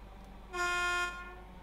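A Class 314 electric train arriving in Train Sim World 2 sounds a steady two-tone horn blast for about half a second, loud and clear over a low background rumble, with no talking.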